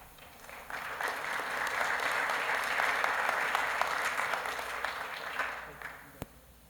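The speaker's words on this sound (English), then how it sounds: "let's give a round of applause for Jacob Gale, who we're recognizing." An audience at a school district governing board meeting claps for about six seconds, a steady wash of applause that swells and then tapers, with one sharp final clap.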